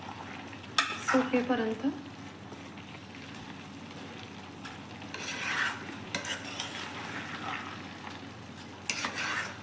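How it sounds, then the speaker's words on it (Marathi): A spoon scrapes and stirs carrot halwa in a pan, with soft sizzling underneath and a few scattered clinks and scrapes against the metal, fairly quiet and close. A voice speaks briefly. "थोडं 5-10 मिनिटं हलवायचं"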